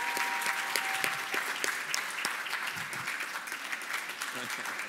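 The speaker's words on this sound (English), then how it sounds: "May we give them all a big round of applause as they make their way to their seats" Sustained, dense applause from a gala audience greets honorees as they make their way to their seats, steady and close throughout with a few sharper individual claps and faint voices mixed in.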